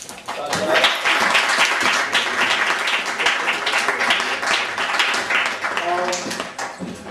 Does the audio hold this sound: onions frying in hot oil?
no